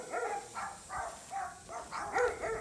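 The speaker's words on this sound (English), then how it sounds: "There's Cynthia's dogs coming to say hi." Several dogs bark in a run of sharp, repeated yaps and woofs at a house under exterior painting and repair, moderately close and rising slightly toward the end.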